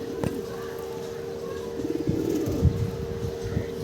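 Pigeons bathing give soft, low coos and a few chirps over a steady background hum, close by and moderately quiet, with no talking.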